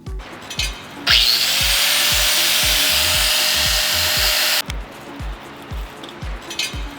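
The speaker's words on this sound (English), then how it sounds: "Love this tool, the little belt sander." A small belt sander whines loudly for a few seconds between rhythmic, repeated knocking, nearby and harsh, then cuts off abruptly, while installing wheel wells on a Toyota Tacoma.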